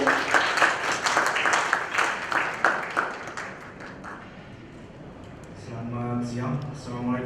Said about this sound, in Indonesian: Mari kita beri tepuk tangan ya.